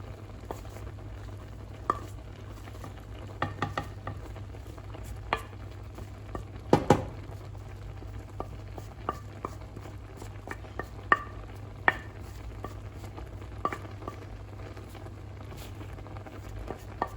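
Mushrooms stirred into frying olive rice with chicken, with a soft steady sizzle under scattered taps and scrapes of a utensil against the pan.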